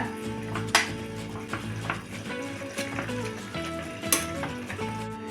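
Garlic fenugreek greens gravy is stirred in a pan on the stove, giving a steady sizzle with intermittent spoon scrapes and clinks against the pan.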